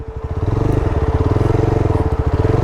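A Triumph Scrambler 400X or Yezdi Scrambler motorcycle idles and chugs in a steady close-up pulse while being turned around on dry dirt, its single-cylinder thump loud and rhythmic throughout.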